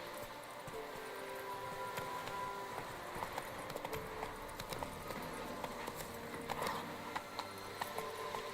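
Roach, the horse from The Witcher 3, gallops with steady clip-clop hoofbeats that run continuously under a layer of game ambience and scattered sharper clicks.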